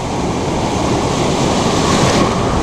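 Large waves at sea wash and surge in a loud, continuous roar with wind buffeting the microphone, heard close from aboard a fishing boat, with no voices over it.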